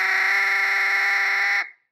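A single long steady note on a duck call, loud, close and reedy, held evenly for about a second and a half before cutting off into silence.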